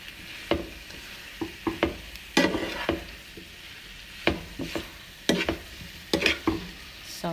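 Eggplant and potato being stirred in a frying pan, with repeated close scraping and clacking strokes at an uneven rhythm over a faint sizzle.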